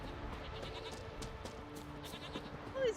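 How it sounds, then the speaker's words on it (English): A goat lets out a single short bleat near the end against a steady background hum from the game The Witcher 3, fairly faint and not close. "All these goats everywhere."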